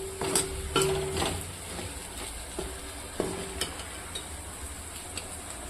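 Okra (bendakaya) frying in a pan while a utensil stirs it, giving a soft sizzle broken by scraping and clinking strokes against the pan, near and fairly quiet.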